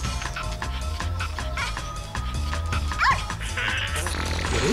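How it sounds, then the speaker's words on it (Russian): Small dog yapping in the Neighbours From Hell video game, a few sharp barks and whimpers over busy game music and effects, fairly close and moderately loud. "Вот мерзкая собачка."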